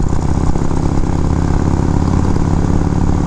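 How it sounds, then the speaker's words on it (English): A loud 1979 Harley-Davidson FLH Shovelhead engine idles up close, a deep, steady, lumpy rumble that holds even throughout. "First time I saw it and heard it idling, I was like, wow, that thing is sweet."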